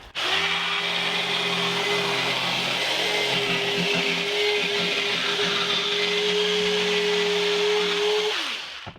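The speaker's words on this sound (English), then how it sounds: "now we're just taking our handy dandy jigsaw with our guy clamped down" A jigsaw cuts through clamped wood for a Nerf gun cabinet, running steadily and loudly for about eight seconds with a sustained buzzing whine and no talking.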